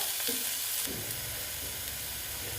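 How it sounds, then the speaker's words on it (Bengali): Grated onions sizzle steadily in a hot pan, a constant crackling hiss with a few soft scrapes of stirring near the start. "পেঁয়াজগুলো প্রায় ভাজা হয়ে এসছে"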